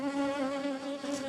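Hornet in flight near a wasp nest in Dordogne, buzzing steadily and close with a strong harmonic drone throughout.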